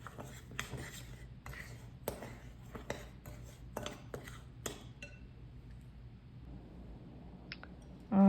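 Clinks and scrapes from a spoon stirring homemade bath bomb dry ingredients in a bowl, a steady run of sharp irregular taps for about five seconds, then a quieter stretch with a few faint knocks.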